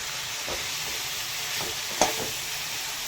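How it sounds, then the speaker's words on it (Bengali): Onion and chicken fry together in a pan under a steady, soft sizzle, with a few faint stirring scrapes and one small clink near the two-second mark. "তো পেঁয়াজ আর চিকেনটা একসাথে ভালোভাবে একটু ফ্রাই করে নেব।"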